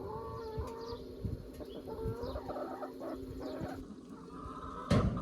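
Several hens cluck and murmur close by, with soft scattered calls over a steady background hum and a brief rustle near the end.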